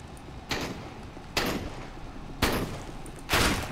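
Four separate loud gunshots ring out in the tactical shooter CS:GO, spaced unevenly about a second apart, each a sharp crack with a short tail, over quiet ambient noise.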